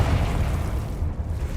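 Confringo blasting spell explosion in the video game Hogwarts Legacy, a deep rumbling boom that holds steady and heavy in the low end for the whole moment, with no talking over it.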